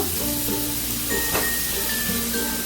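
Garlic frying in hot oil in a pan for a prawn and taro-stolon curry, giving a steady, close broadband sizzle and hiss throughout, with no talking over it.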